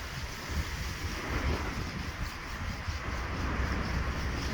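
Steady, blustery wind rushing across the microphone outdoors in freezing weather, a continuous low rumble with slight gusts and no voices.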